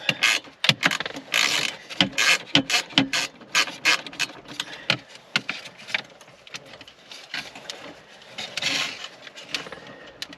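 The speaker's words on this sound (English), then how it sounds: "I've got a 6-inch extension on my ratchet here, and it's just long enough." A hand ratchet fitted with a 6-inch extension ticks in repeated bursts of sharp, close clicks while loosening the head unit bolts inside a Mazda 3 dashboard, with short pauses between strokes.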